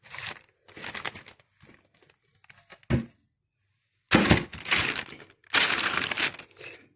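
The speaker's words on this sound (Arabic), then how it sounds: "وهلفه في ورق الزبدة وورق فويل واحطه في الفرن" Parchment paper and aluminum foil are crinkled and folded around food before baking, in bursts of close, loud rustling and crackling separated by short pauses, with no talking.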